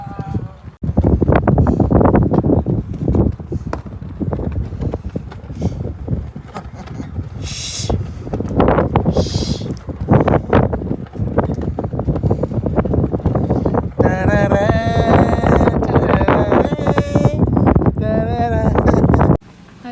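Wind gusts buffet a microphone outdoors near banana plants, a loud, steady roar of rumbling noise throughout, with voices talking over it.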